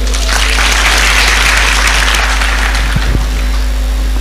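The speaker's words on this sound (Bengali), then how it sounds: "আমরা একটু হাততালি দেই।" An audience at a career event in Chittagong applauds to welcome a guest, a dense continuous wash of clapping held loud throughout under a steady low hum, with no voice heard.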